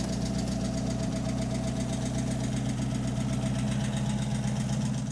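A 1948 Buick Super, the Woody Wagon, idles with a steady, even engine hum and a faint rhythmic tapping, close and continuous with no talk.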